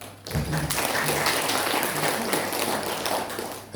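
Audience applause in a hall after a speaker introduces a philologist, a full, steady burst of many hands clapping that starts abruptly and holds at an even loudness, with no talk over it.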